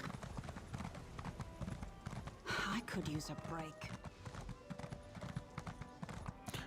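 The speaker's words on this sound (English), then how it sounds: "Summon my horse." A white horse is summoned in the Elder Scrolls Online game, and its hooves clip-clop in a quick, steady rhythm close by while someone talks briefly over them.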